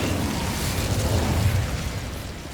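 An Incendio fire spell cast in Hogwarts Legacy gives a steady, loud fiery whoosh with a low rumbling roar that holds for a couple of seconds before easing off slightly, with no voices over it.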